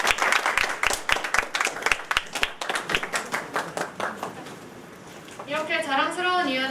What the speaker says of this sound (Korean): 앞으로도 더 큰 활동을 이뤄낼 수 있도록 큰 박수 부탁드립니다